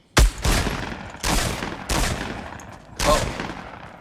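Four heavy, booming shotgun blasts in a video game firefight, spaced roughly a second apart, each loud with a short decaying tail, and no talking over them.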